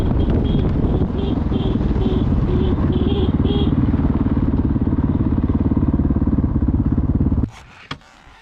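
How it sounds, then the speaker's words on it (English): A dual sport dirt bike engine bogging and lurching, a loud, close, steady rough drone with a wavering pitch that cuts off abruptly near the end, followed by a few faint knocks. "there's something going on with my bike. It's bogging and then going and lurching."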